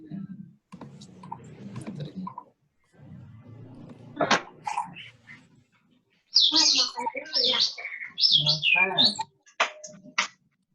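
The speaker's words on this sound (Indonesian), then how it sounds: "Itu ada suara burung ya Pak?" A bird chirps in the background of an online class, giving bright repeated tweets and trills in the second half, mixed with clicking and murmured speech.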